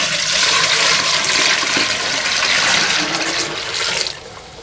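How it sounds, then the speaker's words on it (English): Water poured through dirt to separate out clay, a steady rushing, splashing pour heard up close and fairly loud for about four seconds before it drops away. "And we are going to run this water through a second time, just to be sure."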